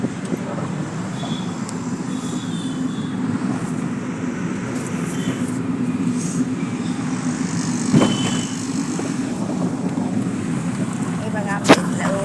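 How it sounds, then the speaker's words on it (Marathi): Steady low rumble of a newly bought car, purchased for 30 lakh, driving along a local road, with road noise constant throughout and a couple of brief knocks or clicks; a voice talks over it. "हे घा आमची गाडी, आमचा ड्रायव्हर. आता नवी गाडी घेतली आम्ही"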